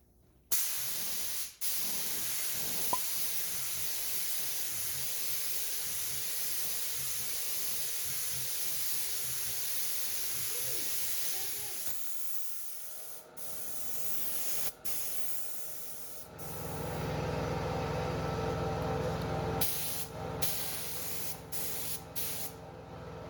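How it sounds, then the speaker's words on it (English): An HVLP pneumatic spray gun sprays water-thinned paint in long, steady hissing bursts close up, with short pauses between passes and no talk. "I added just a little bit more water to get a good consistency for spraying with my HVLP pneumatic spray gun"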